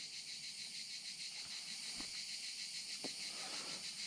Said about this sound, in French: J'entends les cigales.